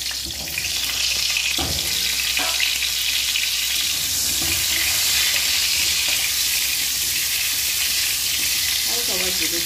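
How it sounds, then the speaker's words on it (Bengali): Amra (hog plum) pieces fry in oil for an egg korma, giving a loud, continuous sizzle with a few utensil knocks near the start. "আমড়াগুলো ভেজে নেব।"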